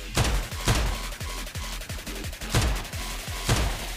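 Rapid bursts of gunfire in the video game PUBG, loud and close, with repeated sharp shots in quick clusters and brief gaps between volleys.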